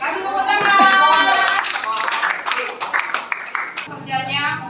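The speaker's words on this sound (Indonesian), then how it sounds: "Oke, kasih tepuk tangan." Children in a classroom clap their hands after a crafts lesson, a quick patter of claps from a group mixed with a voice and a speaking adult, with fluttery bursts at the start and end.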